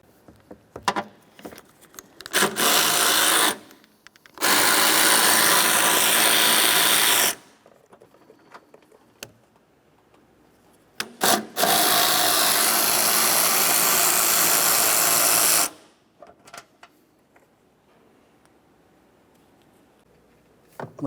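A power tool removes 10mm bolts along the fender of a 2001-2005 Ford Explorer Sport Trac. It whirs loudly in three sustained bursts lasting a few seconds to about four seconds each, with quiet clinks and handling noises between them.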